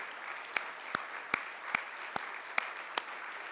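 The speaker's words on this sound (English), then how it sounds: "Every one of them deserves our applause one more time" Sparse, evenly spaced single claps ring out at a Hall of Fame awards ceremony for inductees, a slow rhythmic beat of about two or three per second over a quiet room.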